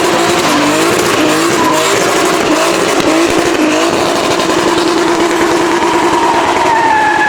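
A 1000 hp turbocharged Volvo on a rally chassis does a loud, close burnout, its tires squealing continuously while the high-revving engine howls and wavers alongside.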